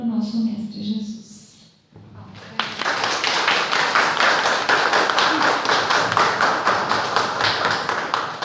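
An audience at a lecture breaks into sustained applause. Someone speaks first, then a short pause follows, and dense, steady clapping rises and continues loudly to the end.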